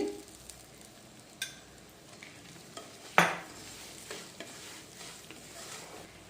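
Semolina (rava) fries in ghee while being stirred, making a quiet, continuous crackling sizzle with scraping strokes and one sharp clack of the spoon partway through.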